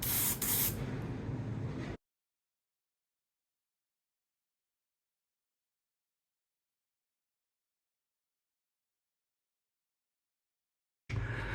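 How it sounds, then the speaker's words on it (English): Two short hissing bursts of MIG Ammo NATO Black aerosol spray paint on a 1/35 scale Leopard 2 AVLB tank model, one at the start and one at the end, separated by a long silence. "Seems to spray pretty well."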